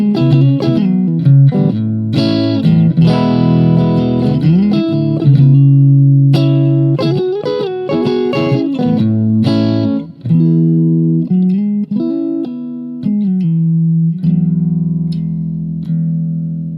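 An electric guitar plays through a Blackstar Silverline Standard valve amp set warm and clean on EL84 tubes, EQ flat at twelve, with a touch of reverb. Ringing chords and single notes come up front and loud, with short pauses between phrases.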